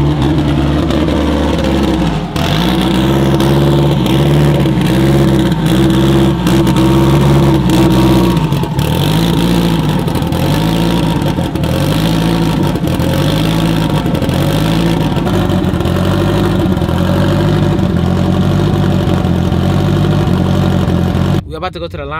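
Modded MK5 Supra and an Evo idling at a street race, their engines burbling loudly up close with repeated rising and falling blips of revving, while people talk over the rumble.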